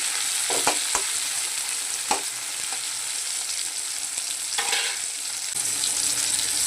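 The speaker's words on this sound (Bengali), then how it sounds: "টমেটোটা একটু ভাজা হবে" Chopped tomato fries in a pan for a bhetki fish kalia, a steady close sizzle broken by several scraping clicks of a spatula stirring, with no one speaking.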